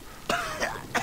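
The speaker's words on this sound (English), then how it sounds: "I'm coughing up blood that ain't mine." A character in the Gears of War 2 video game coughs in three short, harsh bursts, close and fairly quiet.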